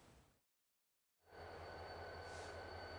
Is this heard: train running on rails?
yes